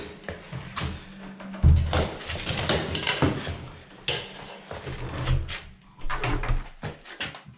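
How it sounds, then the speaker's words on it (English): A wooden door being closed and handled in a bedroom under renovation, with several knocks and clattering thumps spread across the stretch, close by and moderately loud. "Let's see if I close the door, if it's straight."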